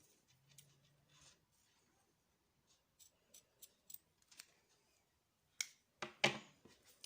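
Scissors trimming excess thread from a friendship bracelet, a few quiet, sharp snips spaced apart, the last pair a little louder, in a very quiet room without speech.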